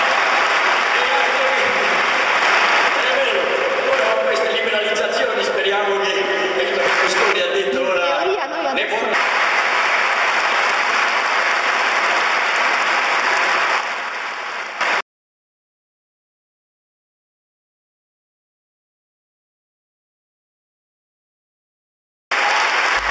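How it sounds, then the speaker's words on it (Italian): Sustained loud applause from an audience at a show in Arezzo runs for about fifteen seconds with voices over it, then cuts to silence before a brief return. "Vedi come ti aiuta a tirare sull'applauso."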